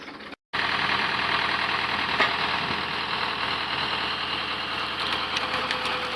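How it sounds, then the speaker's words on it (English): A tractor runs a PTO-powered cone log splitter outdoors on an open plot near woods, its engine holding a steady, continuous mid-pitched drone with a knocking rumble and no clear splits, alone with no voices. "the cone log splitter mounted to a tractor is in steady operation"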